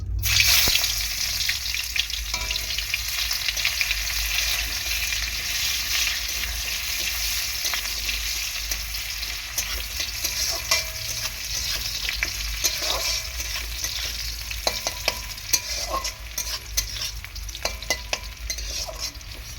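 Chopped onion sizzles in hot oil with tempered spices in a Bengali home kitchen, a continuous close frying hiss broken by scraping stirs of the spoon in the pan.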